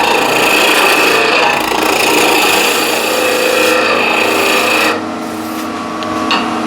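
A chunk of pine spins on a wood lathe as a tool cuts it, giving a steady, loud rasping scrape that runs continuously before dropping slightly in level near the end.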